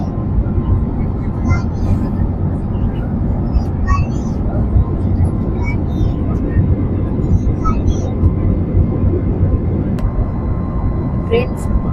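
Steady, loud roar of a passenger airplane cabin in flight, a first-time plane ride, with deep broadband rumble running evenly throughout and faint voices murmuring underneath.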